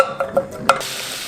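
Garlic dropped into a generous pour of hot oil, frying in a pan while making Korean soft tofu stew, gives a short burst of sizzling with a few stirring scrapes and a louder crackle toward the end, close and alone.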